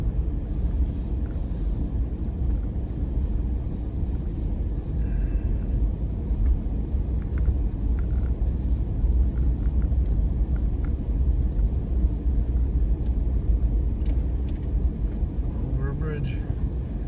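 A car driving out on a cold moonlit night, its steady low road rumble and engine drone filling the whole stretch close and continuous, with wind buffeting the microphone.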